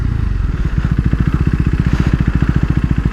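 A KTM RC 390 motorcycle engine, heard close and loud, pulses in a fast, even rhythm as the rider downshifts, with crackling exhaust pops and no voices.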